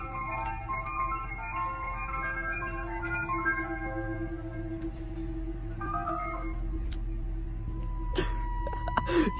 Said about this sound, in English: The ice cream truck pulling up at 9 o'clock